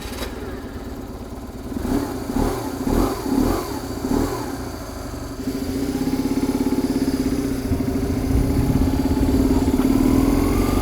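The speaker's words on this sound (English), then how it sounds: "It's a motorcycle." A motorcycle test-ridden around the block, its engine revving in a few quick bursts before settling into a steady, loud, close running drone that slowly builds in pitch.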